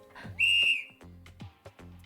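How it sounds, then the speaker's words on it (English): A clear whistle sound effect from the video game Zanki Zero, one bright sustained tone amid soft game sounds and short footstep-like taps, with no voices. "Oh, whistle sound effect."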